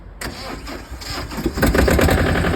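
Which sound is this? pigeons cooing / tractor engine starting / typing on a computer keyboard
tractor engine starting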